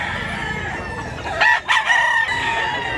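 Roosters crow at a busy weekly chicken market in Mantalungon, Cebu, one loud nearby crow rising over a steady din of clucking fowl and crowd noise.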